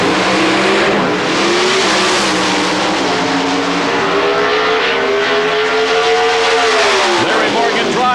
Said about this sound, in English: It is a wedge motor pulling the Avenger down the track